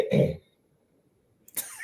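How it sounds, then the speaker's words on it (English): A short, close throat clearing, a quick guttural rasp followed by silence and then the start of a breath or voice. "Let me clear my throat."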